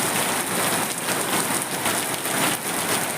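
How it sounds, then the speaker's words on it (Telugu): Steady, dense rain pours down outdoors during a Devi Navaratri temple festival, a close, continuous hiss of drops hitting surfaces with no voices. "ఇప్పుడు చూడండి వర్షం ఎలా పడుతుంది"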